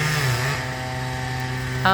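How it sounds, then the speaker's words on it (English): A chainsaw drones steadily at close range, cutting at the base of a tree trunk, its engine pitch dipping slightly and then holding, with a brief sharper burst at the very end. "what he's doing is using the chainsaw at the base of the tree"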